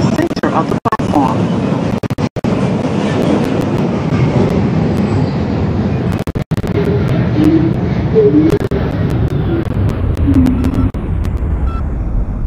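An R142 subway train on the 5 local toward Eastchester runs with a steady loud rumble and rail roar throughout, with a few sharp clacks and dropouts along the way.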